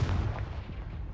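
A Confringo blast spell going off in a wizard video game, a dense low rumbling boom that fills the short moment steadily without any voices.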